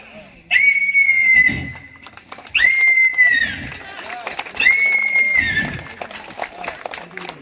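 A schoolboy's voice imitates a horse's neigh three times, each a shrill, wavering whinny trailing off, separated by short pauses with background noise.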